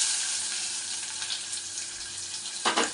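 Onions sizzle steadily in hot oil and ghee with cinnamon, cloves, bay leaf and cardamom for cumin rice, a close, continuous frying hiss ending in a brief louder burst of stirring.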